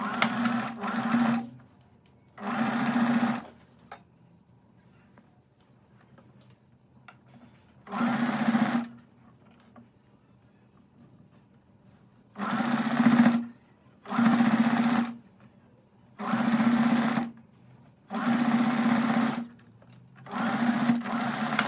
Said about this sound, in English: then we can go ahead and sew this side seam with a 1 centimeter seam allowance